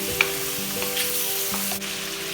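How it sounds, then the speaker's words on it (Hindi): Mutton fries in a pot with a steady close sizzle, punctuated by several spoon scrapes and stirring knocks at regular intervals against the pot. "थोड़ी सी इसको फ्राई कर लेते हैं मटन को।"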